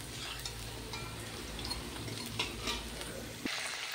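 Potatoes fry with cumin and spices in a pan, a steady close sizzle broken by a few scraping stirs and a sharp clink near the end, with no talking.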